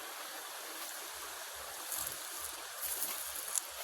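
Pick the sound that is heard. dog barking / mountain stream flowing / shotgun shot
mountain stream flowing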